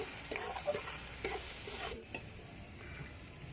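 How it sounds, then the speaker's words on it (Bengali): Ghetkochu stems being stirred and fried in a pan, a steady sizzle broken by a few scraping stirs of the spatula, with the frying continuing more softly toward the end. "সব কিছু দিয়ে ভালো করে নাড়াচাড়া করে নেব"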